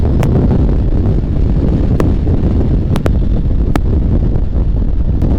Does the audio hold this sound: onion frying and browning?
no